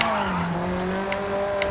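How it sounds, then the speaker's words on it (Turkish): A Ferrari in Forza Horizon 5 brakes with a sustained tire squeal over the dropping engine drone, a steady loud tone with a few small crackles. "Şu inceden şöyle bir freni çekeyim."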